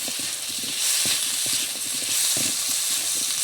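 Fish curry masala sizzles in a pan as chili powder goes in, a steady bright hiss broken by soft scraping stirs that tick along at an uneven rhythm, close and moderately loud.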